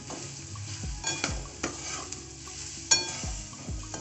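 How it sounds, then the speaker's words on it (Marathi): Freshly grated coconut is stirred and roasted in ghee in a pan, with a spoon scraping and clinking against the metal in irregular strokes over a soft background sizzle. "याच्यामध्ये खिसलेलं एक ओलं खोबरं घेतलेलं आहे परतून घेऊया"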